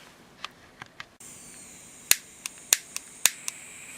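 A faulty Toyota blend door actuator gives a series of sharp, close clicks, about eight irregularly spaced snaps over a few seconds with a soft hum underneath, and no voices.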